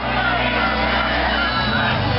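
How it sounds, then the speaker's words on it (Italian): Supporters of Bilerio cheer at the Palio Pignarulars final, a dense crowd roar with shouts and whoops, steady and loud, with a commentator's voice on top. "sentiamo il tifo di Bilerio"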